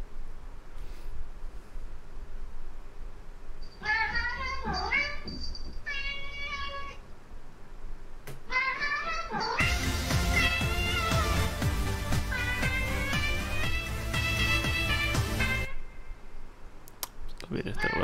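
A cat meows several times up close, a run of short, rising-and-falling cries, followed by a louder, noisier stretch where people talk and laugh over it.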